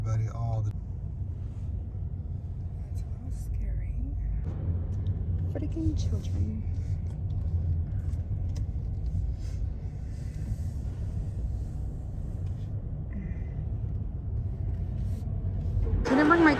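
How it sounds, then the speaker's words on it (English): Road traffic in downtown San Antonio rumbles low and steady as cars drive past, with people talking over it most of the time. "All the traffic, everybody."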